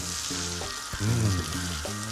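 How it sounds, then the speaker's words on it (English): Loud, steady sizzling as stock hits a hot risotto pan of rice, with bubbling crackle and a few stirring scrapes close up, no speech over it. "Stock in, bring it up to the boil, turn it down and let it simmer."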